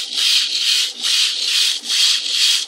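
A home-built RepRap 3D printer's upgraded X-axis with new welds sweeps back and forth at around 900 mm/s, giving a loud, steady rushing whine in three long passes with brief dips at each reversal, no talking.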